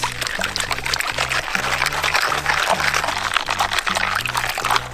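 Caught seashore creatures from a rocky shore being rinsed with water in a colander outdoors on a winter day, a steady splashing, pouring wash close by and continuous throughout, with a rhythmic low pulsing underneath.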